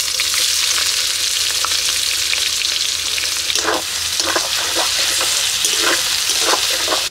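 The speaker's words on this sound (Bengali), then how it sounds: "এবার দিয়ে দিচ্ছি কুচিয়ে নেওয়া পেঁয়াজ আর চিড়ে রাখা কাঁচা লঙ্কা" Chopped onions and slit green chillies frying in hot mustard oil with whole garam masala and cumin, a loud steady sizzle close by with occasional stirring scrapes, no voices.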